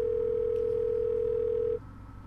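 A steady, loud telephone dial tone from the point-and-click game Thimbleweed Park drones continuously for under two seconds, then cuts off abruptly, leaving a low hum; nobody speaks.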